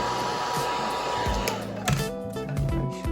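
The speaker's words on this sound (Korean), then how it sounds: "이런 식으로 드라이기로 말려서 고정을 조금 시켜주시고요" A hair dryer blows steadily, drying paint on a fabric eco pouch. Its airflow whoosh holds near and constant throughout, with shifting tonal hums as the dryer is moved.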